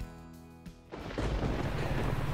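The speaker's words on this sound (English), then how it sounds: "Ah, first two cracks of lightning and thunder." Thunder cracks during a storm at a lake, cutting in after a quieter opening with a sharp onset and then swelling into a loud, sustained low rumble.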